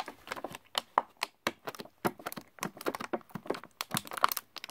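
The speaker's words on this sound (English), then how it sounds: "So I gotta peel that tape off." Tape being peeled off a 2002 Hasbro Zoids Liger Zero toy package, heard as a close, quiet string of quick crinkling and tearing crackles in an irregular rhythm, with no talk.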